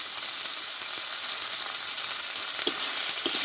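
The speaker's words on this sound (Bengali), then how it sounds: "দিয়ে একসঙ্গে মশলাটা ভালোভাবে কষিয়ে নেব" Spices and tomato sautéing in oil in a pan, a continuous close hiss and sizzle with a few soft stirring knocks near the end, no talking.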